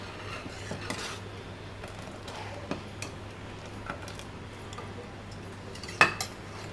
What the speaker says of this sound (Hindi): अब इसको अच्छी तरह मिक्स कर लेंगे पहले।